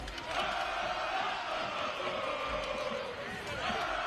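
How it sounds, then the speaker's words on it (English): A high school football stadium crowd murmurs and calls out at a night game, a sustained, moderately distant roar of many voices with scattered shouts throughout. "Nice sized crowd here tonight."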